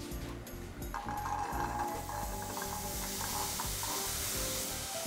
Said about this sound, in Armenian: Ազատված տապակի մեջ բովում ենք նախապես թրջած սիսերը